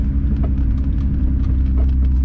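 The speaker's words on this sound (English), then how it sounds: "when the suspension goes up and down, that's when you hear it like clanking. You can hear that metal sound." Metal clanking from a car's suspension on BBS wheels as it travels up and down, with repeated knocks over a steady, heavy low road rumble throughout.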